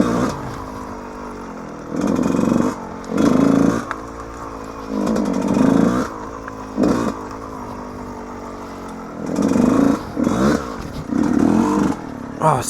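A Yamaha YZ125 two-stroke dirt bike is ridden off-road on a slick trail, its engine rising in repeated loud revving bursts between quieter idling stretches, heard close up.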